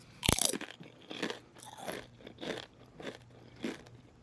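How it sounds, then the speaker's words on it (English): Crab rangoon bitten and chewed up close, a sharp loud crunch on the first bite followed by several slower, rhythmic crunchy chews of the fried wonton shell. "Just listen to this crunch, okay?"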